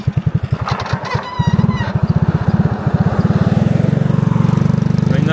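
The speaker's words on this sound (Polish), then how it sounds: "Zobaczcie, przejechaliśmy 100 metrów i musieliśmy przejechać tutaj skuterem" A scooter putters along a gravel road in Khao Yai, Thailand, its engine giving a steady, close, pulsing drone that rises slightly as it gets under way, with no talking over it.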